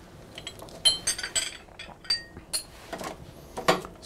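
A spoon stirs chilies into a pot of posole, Mexican soup, with light, irregular metallic clinks and scrapes against the pot, close and fairly faint between the knocks.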